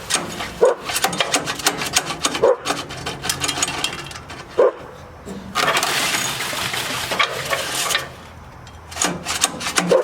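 Repeated pull-start attempts on a Troy Bilt chipper shredder with a 10 hp Briggs and Stratton engine that won't run: loud rasping cord pulls and brief sputters recurring every couple of seconds, close up, with no talking.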